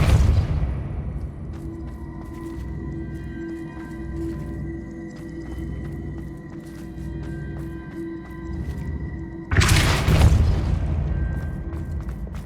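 Spell blasts from a magic-combat video game, Hogwarts Legacy on PS5: a deep booming impact at the start and another loud burst near the end, with a low sustained rumble and game ambience between, no talk.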